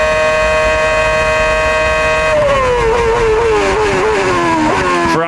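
A 2007 Ferrari Formula 1 car at the French Grand Prix, heard onboard: a loud, steady high-pitched engine scream that holds constant, then drops and rises again through gear changes as the car brakes and powers out of a corner.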